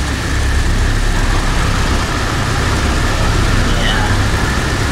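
Piston engine of a PMDG DC-6 airliner in the Prepar3D flight simulator running at a steady, dense low drone, loud and constant throughout with no pauses.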